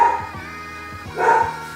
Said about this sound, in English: there's an ant and my dogs are barking